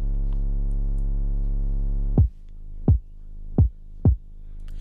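In FL Studio, a sustained deep 808 bass tone is sidechained to a kick with a super slow release: four punchy kick hits each duck the bass, which never fully swells back between beats, with no talk.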